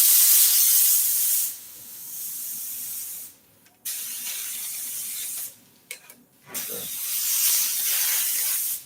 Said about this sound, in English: I'm just gonna spray it like lightly.